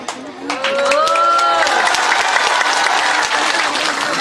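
Loud, sustained applause fills a large religious sermon gathering, dense clapping from a big crowd rising quickly and holding steady, with a few whistles over it early on.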